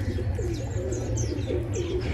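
A pigeon coos softly and repeatedly in a steady rolling rhythm, close by, with faint chirps and a low hum underneath and no talk.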